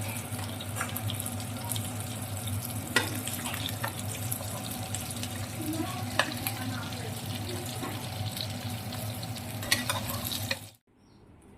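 Mutton pieces frying in a pan for mutton mandi, a continuous loud sizzle with crackling pops throughout, then an abrupt cut to near silence at the end.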